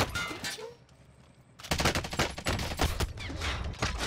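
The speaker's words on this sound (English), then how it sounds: "How is this guy shooting me?" Machine gun fire from a Stoner LMG in Call of Duty Warzone: a quieter opening with a few scattered shots, then a loud, sustained rapid burst of closely spaced rounds running to the end.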